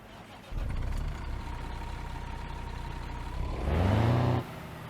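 A game-modelled early-2000s Ford Cargo 2422 truck in Euro Truck Simulator 2 cranks and fires up into a steady diesel idle, then gives a brief louder rev before settling back down, alone with no talk.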